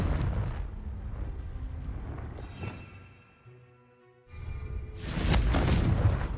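A Confringo fire spell bursts in Hogwarts Legacy with booming, explosive blasts, one at the start and a louder, fuller eruption near the end, separated by a quieter stretch of low magical hum.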